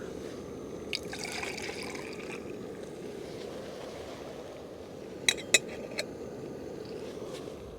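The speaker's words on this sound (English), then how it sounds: "we're going to pour our coffee back into the metal cup here" Coffee poured into a metal cup outdoors, a faint steady trickle of liquid with a few sharp metallic clinks near the end.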